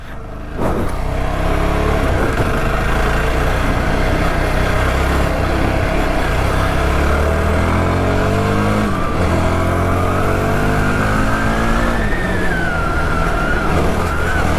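A 2022 Yezdi Scrambler motorcycle being ridden, its engine droning loudly and continuously with rising and falling revs through gear changes, close to the microphone with wind rush throughout.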